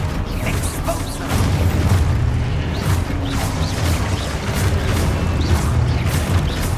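The Exposo explosion spell in the Hogwarts video game gives a loud, dense rumbling blast with crackling debris and repeated thuds, sustained over several seconds with no voice.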